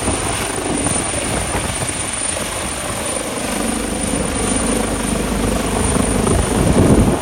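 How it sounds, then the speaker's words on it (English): A helicopter lifts off at a trauma rescue scene, its rotors thudding loud and close in a continuous roar that swells toward the end. "And then we watched the helicopter take off. The rotors never stopped spinning."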